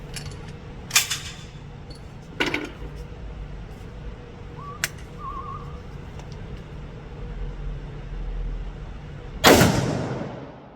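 Rifle shots from a .30-06 firing Hornady soft point rounds, several sharp cracks spaced apart with the loudest near the end and its rolling echo trailing off outdoors.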